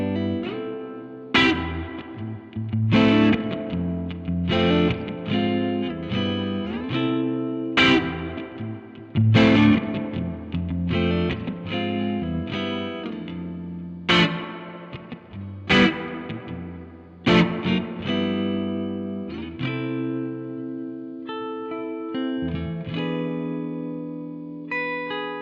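Electric guitar played through a clean tone enhancer pedal, with chords and single notes struck in bursts that ring out with a shimmering, chorus-like sustain, loud and alone with no talk.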